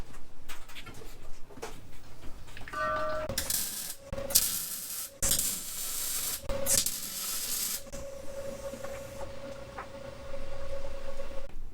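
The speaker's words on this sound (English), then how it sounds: "It helps to turn the welder on." Tack welding short metal tabs onto a 1/10 scale RC crawler hauler chassis: several short bursts of crackling arc noise separated by pauses, fairly close, with a faint steady tone running under the quieter stretches.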